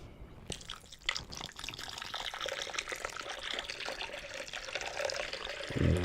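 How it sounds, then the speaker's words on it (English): Apple juice poured into a pot of sugar for ginger cider gives a soft, continuous splashing trickle with small drips, quiet and close, with no one speaking. "We're going to pour a little bit of the juice in to help the sugar go down."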